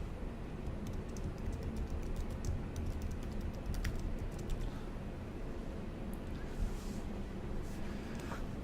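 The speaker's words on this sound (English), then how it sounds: "we will type in our store admin password." Someone types a store admin password on a computer keyboard: a soft burst of quick, light keystrokes with some louder taps, set against a steady background hiss and no talk.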